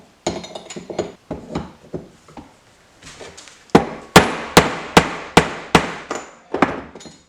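A hammer strikes repeatedly to knock a stuck bearing loose from a heated part on an RMZ250 motorcycle, sharp metallic whacks, first scattered then a steady run of about nine loud, evenly spaced blows.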